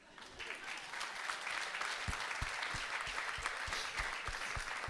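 An audience claps steadily in a dense, even round of applause that lasts the whole stretch, with a few louder, rhythmic claps standing out in the latter half.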